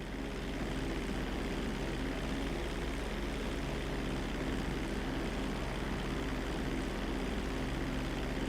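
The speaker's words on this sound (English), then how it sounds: "Congratulations, pilot! You are now airborne." A propeller airplane in Grand Theft Auto V drones steadily just after takeoff, a constant engine hum with a low tonal buzz that holds at even loudness throughout, with no voices.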